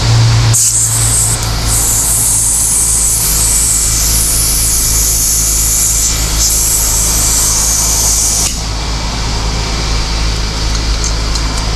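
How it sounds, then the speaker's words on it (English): A Tornador Max cleaning gun blasts chemical spray inside the interior of a 2020 Honda Fit, a loud, steady air-driven hiss lasting about eight seconds before cutting off to a lower hum. "And this Tornador Max, it shoots chem."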